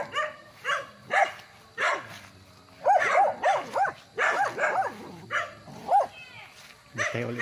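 Several dogs on a rural farm lot bark in repeated short bursts, fairly close, with some yips and whines mixed in and a few rapid volleys of barks.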